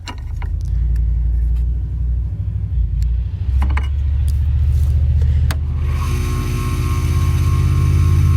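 A homemade flat lap lapidary grinder built from a tile saw spins up with a steady, loud motor rumble and whine that holds constant throughout, with a brighter grinding hiss entering near the end.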